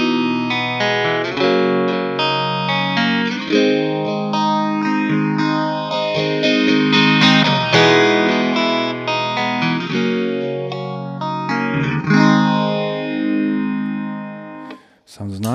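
Electric guitar through an Electro-Harmonix Small Stone phaser pedal, sustained chords sweeping with a slow, repeating whooshing swirl that rises and falls in regular cycles, loud and close throughout.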